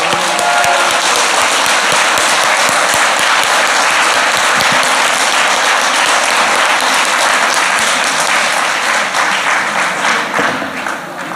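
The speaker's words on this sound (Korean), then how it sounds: "전부 일어나서 기립하셔서 우리 권 의원님께 성원과 감사를 박수로 표현하겠습니다." A standing audience at a peace and unification prayer meeting and political seminar applauds a lawmaker, a dense, loud, sustained roar of clapping that fades slightly at the end.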